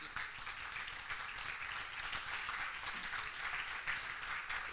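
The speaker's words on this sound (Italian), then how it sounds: "vi faccio un applauso" A seated audience at an art and music evening at CUBO claps softly and continuously, a distant, faint, even patter of applause.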